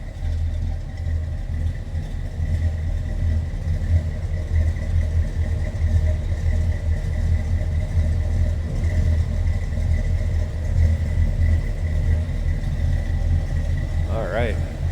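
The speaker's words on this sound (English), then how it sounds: "a little rumble coming out of that 401. Nice idle, a little Loby." A 401 V8 in a 1966 Buick Skylark GS convertible idles with a steady, deep rumble and slightly uneven, lopey pulses, close and continuous throughout.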